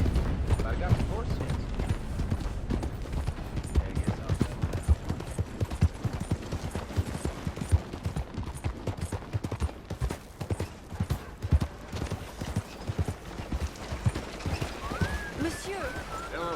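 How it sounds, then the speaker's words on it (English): Horses gallop in the Red Dead Redemption 2 game with a dense, continuous patter of hoofbeats, loud and close, mixed with rattling tack, occasional gunshots and speaking voices. "I got horses."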